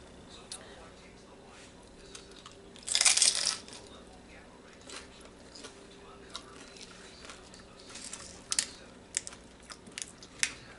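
Close, loud crunch of crispy low-calorie food bitten while eating, one strong burst followed by scattered softer crunches and small clicks, with quiet background.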